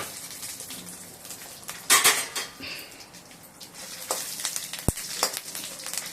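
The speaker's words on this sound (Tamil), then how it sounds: "நல்லா ஒரு ஸ்பூன் எண்ணெய் விட்டு வறுத்துக்கணும்" Spices fry in oil in a pan for a lentil vathal dish, sizzling and crackling, with clinks of a spoon against metal and a sharp tap near the end.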